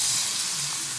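Pieces of cempedak fruit sizzle steadily in hot oil over a lowered flame, a close, continuous frying hiss with no talk.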